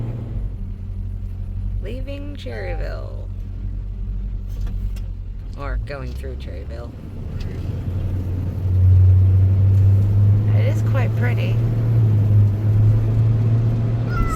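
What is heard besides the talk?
truck driving on a bumpy road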